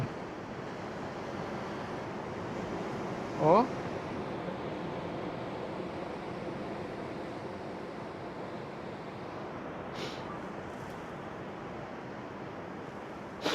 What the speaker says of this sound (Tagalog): Talagang sa lakas na hampas ng alon, puting-puti yung mga tubig